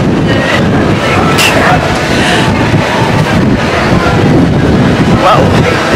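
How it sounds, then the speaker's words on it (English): Cold wind buffets an outdoor microphone at Epcot, a loud constant roar with gusty rushes and no distinct voices rising above it. "it is very cold and windy today"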